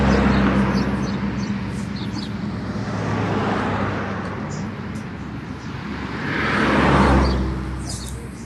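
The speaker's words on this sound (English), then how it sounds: "Lots of cars." Road traffic outside an open house window, a continuous wash of passing cars with two swells as vehicles go by, a faint bird chirp high above the roar.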